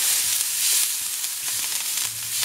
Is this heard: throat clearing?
no